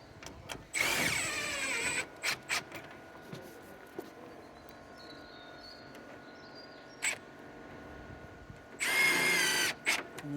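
A power drill drives screws into a timber fence panel, giving two loud close whirring bursts with short clicks and bumps between them, with no talking.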